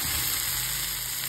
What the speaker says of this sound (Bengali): তো এটাকে ভালো করে ভেজে নেবো